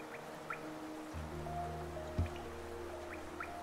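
Rain in the City of Tears in Hollow Knight falls as a soft steady hiss with scattered drips, under sustained low ambient music tones and a single faint thud, with no talk.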